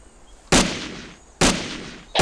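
Three heavy, booming gunshots in a World War II video game set on the Eastern Front, spaced about a second apart, each loud and sharp with a decaying echo over quiet background.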